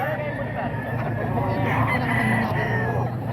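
Roosters crowing and chickens clucking at a busy chicken market in Bocaue, a loud mix of fowl calls close by, with people talking throughout.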